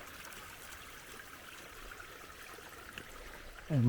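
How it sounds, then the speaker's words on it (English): Faint, steady trickle of water running down a slope through swales, a soft continuous flow in the distance with a louder handling bump at the very end. "still too much water coming this way"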